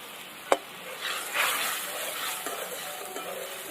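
Spice paste for a mustard curry sautéing in a pan, a soft steady sizzle with scraping stirs and one sharp clink of a utensil at the start.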